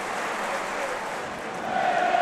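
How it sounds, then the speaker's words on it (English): Preston North End home crowd in a football stadium gives a sustained, broad roar after a long-range shot rattles the goal frame, the swell rising toward the end, with a commentator's voice faintly under it. "That's got the Preston crowd roaring."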